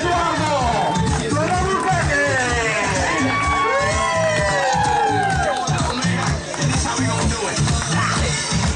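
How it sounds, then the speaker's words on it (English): A festive crowd at a Halloween strut in Cozumel cheers, whoops and shouts loudly and continuously, with excited voices and a thumping beat underneath throughout. "Venga el aplauso."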